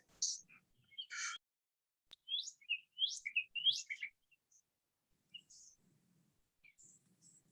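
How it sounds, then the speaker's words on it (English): Birds sing outdoors in Georgia with a few sparse, clear chirps and short trills close by, separated by quiet pauses and very little other noise. "The birds are singing."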